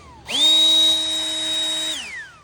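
A handheld electric blower clearing fine dust, small leaves and feathers from a yard spins up to a loud, steady high-pitched whine, holds for about a second and a half, then begins winding down.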